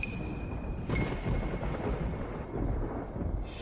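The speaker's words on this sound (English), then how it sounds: "Thunder and lightning, but no rain." Thunder rumbles low and continuous through a dry storm with no rain falling, a heavy, distant roll with a couple of sharp, faint high tones above it.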